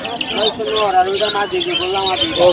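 Pigeons at a weekly pigeon market in Fatullah, Narayanganj, chirp and call faintly throughout beneath steady, close conversation among traders.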